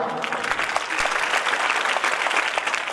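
Applause from an audience at a talk by world champion Sunder Singh Gurjar, steady dense clapping filling the whole stretch at close range, with no voice over it.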